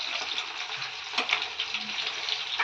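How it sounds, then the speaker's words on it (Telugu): Masala-coated fish pieces fry in hot oil in a pan, giving a steady, bright, close sizzle that holds throughout with a few small pops and a faint stir. "ఇవాళ చేపల ఫ్రై."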